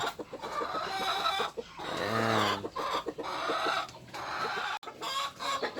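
Shamo and Aseel hens clucking and murmuring nearby in a drawn-out, warbling stream while brooding on eggs, with a brief spoken word partway through.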